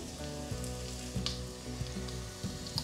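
Onion slices frying and nearly caramelized in a pan, a steady soft sizzle with a few small pops and crackles, close and quiet, with no talk.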